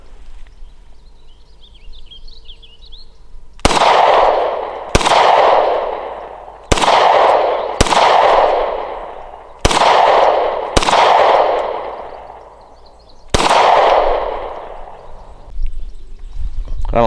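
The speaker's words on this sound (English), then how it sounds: "The gun's loaded, and I'm trying to shoot the can on top of that post" Hi-Point CF380 pistol fired outdoors at a can on a post: seven loud, sharp shots spaced one to two seconds apart, each ringing out with echo, with faint birdsong in the quiet gaps.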